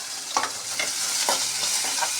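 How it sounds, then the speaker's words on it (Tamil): Red and green chillies, asafoetida and onion sauteing in a pan, a steady hiss of hot oil with a few quick stirring scrapes, close and alone. "வதக்கிக்கணும்."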